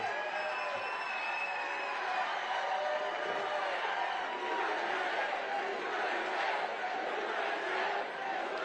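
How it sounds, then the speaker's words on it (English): A large rally crowd roars with sustained cheering, shouts and scattered clapping that swells and continues throughout the whole stretch. "What a great crowd"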